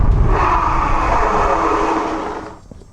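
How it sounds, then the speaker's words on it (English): An ENGWE X26 e-bike's rear tire locks under hard braking from about 28 mph and skids roughly 15 feet, a loud, steady rushing scrape for over two seconds that fades away at the end. "We left a good solid 15 feet of rubber because that back tire just completely locked up"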